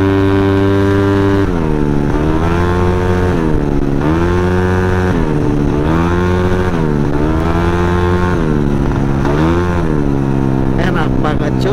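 Honda Scoopy scooter engine revving and accelerating up close, its tone rising and falling in repeated surges across the clip, loud and steady with a voice murmuring faintly underneath.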